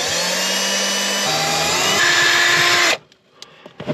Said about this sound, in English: I got the drill. I'm actually gonna be putting a hole right through our roof right now.